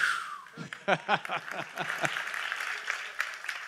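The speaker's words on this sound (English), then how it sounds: "Give that man a round of applause." Audience at a DJ masterclass bursts into applause, distinct claps building quickly into dense, sustained clapping with a few laughs and voices mixed in, fairly close and filling the room.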